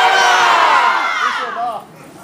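A convention panel audience at New York Comic Con lets out a loud, sustained group scream that swells and then tapers off over about two seconds, filling the hall.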